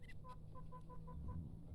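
A rooster clucks in a short series of soft, evenly spaced clucks at close range, quiet over a low background hum, with no voices.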